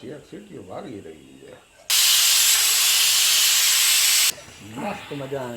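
Talking gives way to a loud, steady hiss of steam from a pressure cooker whistle on a medium gas flame lasting a couple of seconds, then speech resumes.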